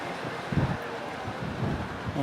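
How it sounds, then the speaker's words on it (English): Steady wind gusting across an outdoor show jumping arena at the Sunshine Tour in Vejer de la Frontera, a continuous broadband rush with a few louder buffets, no clear voices. "Just a little bit windy here"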